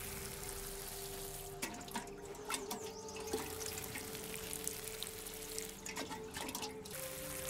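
Seeds being watered in the video game Nightingale, a pouring, splashing water effect with a few sharp droplet plinks, mid-loud over a steady background drone, no speech.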